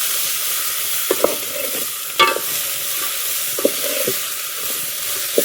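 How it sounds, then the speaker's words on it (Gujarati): Chori (cowpea) curry sizzles in a pot on a wood-fired stove after a splash of water goes in, a steady close hiss broken by a few clinks and scrapes of stirring. "થોડું પાણી લઈ દઈએ એટલે ઠંડી કરી જાય"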